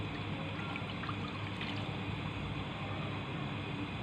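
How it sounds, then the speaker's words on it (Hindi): Water steadily poured into a cooking pan in a home kitchen, a soft, continuous trickling stream at low volume with no talking. "पैन में हम पहले पानी डाल लेंगे।"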